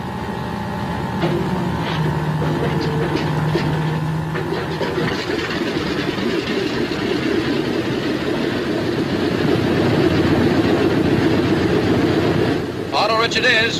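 A B-26 bomber's piston engine churns and settles into a steady, loud idle, with a voice talking over the continuous drone.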